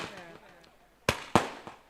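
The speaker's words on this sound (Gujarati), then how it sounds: "જો ફટાકડો તો ફૂટશે" Firecrackers in a staged rural play burst twice in quick succession, sharp loud cracks rising above earlier talk, followed by a fainter third pop.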